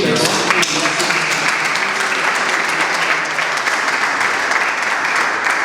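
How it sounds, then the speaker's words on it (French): An audience applauds a poet at a literary book presentation, loud sustained clapping from many hands that carries on without a break from start to finish, with faint voices mixed in. "Je crois qu'on peut applaudir"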